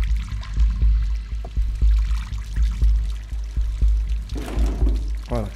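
Water pours and splashes steadily throughout a flooded area in the video game Stray, with soft rhythmic thumps underneath and a brief rattling burst near the end.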